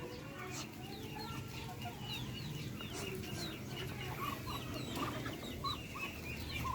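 Darag native chickens cluck and chatter continuously at a moderate distance, several birds calling over a low background murmur.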